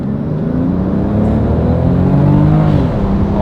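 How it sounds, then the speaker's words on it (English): A 260 hp twin-turbo inline-six JDM car accelerates through a tunnel. The engine note climbs steadily and echoes loudly off the walls, and the revs rise smoothly with no speech. "You guys ready for this tunnel run in this 260 horsepower twin turbo V6 inline 6?"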